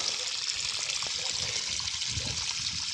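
A thin, steady trickle of water pumped from an artesian borehole runs without a break, close and fairly loud, with a constant hiss and faint splashing underneath.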